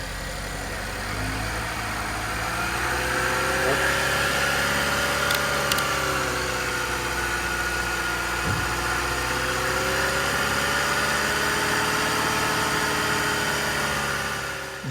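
A car engine holds a steady raised idle near 2,000 RPM for about fifteen seconds, a continuous close drone with slight pitch drifts and no one speaking.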